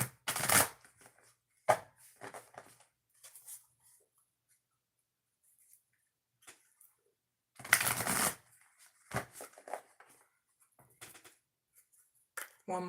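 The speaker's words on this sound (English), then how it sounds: "I'm going to do 3 shuffles for Oracle reading number 3." Oracle cards are shuffled by hand in quick riffling bursts, three separate rounds of crisp papery flutter between quiet pauses, close and alone.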